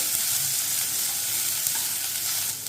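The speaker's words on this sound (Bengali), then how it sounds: "এইগুলোকে একটু সব একসাথে ভালো করে ভেজে নেবো" Garlic, green chilies and sliced onion fry together in hot oil, producing a continuous, even sizzle heard up close with no talking.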